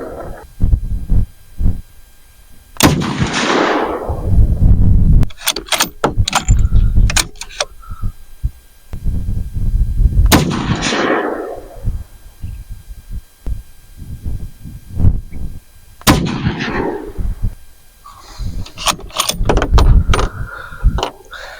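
Shots from a budget rifle fitted with a new stock, fired at an outdoor range, ring out as several loud, separate sharp cracks spaced a few seconds apart, each with a short decaying echo and no talking.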